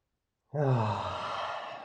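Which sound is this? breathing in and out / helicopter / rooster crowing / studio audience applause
breathing in and out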